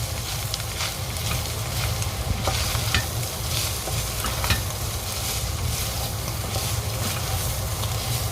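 Rosemary and thyme stir-fried in hot oil with cayenne for chilli con carne, a loud, close, continuous sizzle with a low rumble of heat and faint stirring scrapes.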